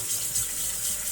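Tap water runs steadily into a sink as fresh strawberries are rinsed, a continuous close hiss and splash with no voices.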